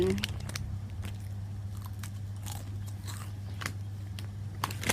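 Crunchy butter snacks being bitten and chewed up close, a run of sharp irregular crunches and crackles over a quiet low hum.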